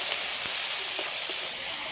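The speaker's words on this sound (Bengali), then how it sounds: "এবারে দিয়ে দেবো টমেটো কুচি, একই সাথে দিয়ে দিচ্ছি 4টে কাঁচা লঙ্কা চেরা।" Chopped tomato and four split green chillies hit hot oil with black cumin, producing a steady close hiss and sizzle with a few small pops, continuous and without talk.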